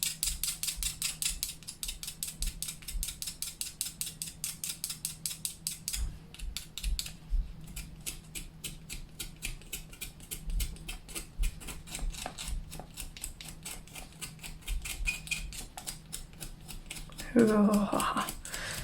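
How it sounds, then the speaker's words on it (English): A knife blade scrapes rapidly along a pastel stick in a long steady run of dry rasping strokes, close and prominent, pausing briefly and then resuming. "I'm just going to grab my pastel here and my knife. And I'm just going to shave the pastel onto here."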